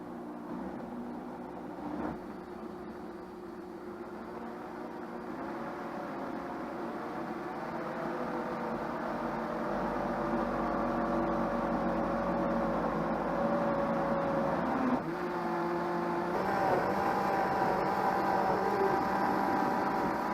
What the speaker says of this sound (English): we're going to gradually raise the speed just enough to blend the soup.